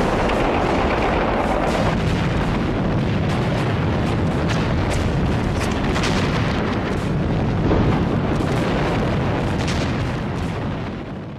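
Japanese gunfire and artillery sweep across Iwo Jima in a dense, continuous roar of booms and cracking shots, loud and unrelenting, fading slightly at the very end.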